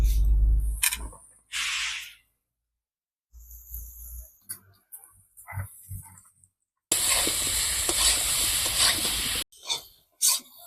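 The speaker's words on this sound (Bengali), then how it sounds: "ওলটা ভালো করে ভেজে নিয়েছি" Elephant foot yam frying in a pan in a home kitchen: short sizzles and utensil clatter with quiet gaps, then a loud, steady hissing sizzle for a few seconds before it cuts off, with no one talking.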